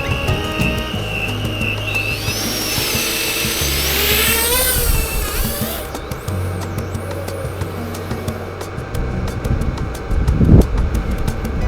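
A lightweight Walksnail toothpick FPV drone flying on a very windy day, its motors whining steadily and close, pitch sweeping up and down as it maneuvers, with wind buffeting throughout.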